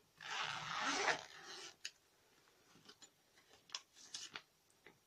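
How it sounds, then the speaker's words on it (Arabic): A zipper is pulled open on a Bath & Body Works gift bag, one long close rasp, followed by soft scattered ticks and rustles as the bag is handled, quiet and with no talk. "نفتح الشنطة مع بعض."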